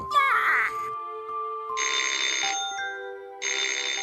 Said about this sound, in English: Later that afternoon, the phone rang